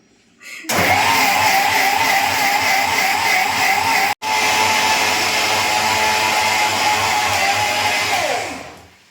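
A loud kitchen mixer grinder roars close by, cutting out for an instant midway, then running on before winding down at the end.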